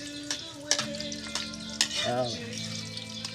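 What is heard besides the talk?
stirring onions sautéing in a pan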